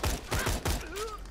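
A three-round burst gun in the video game Borderlands 2 fires three quick punchy shots in a tight rhythm, loud and close, with a faint whine trailing after.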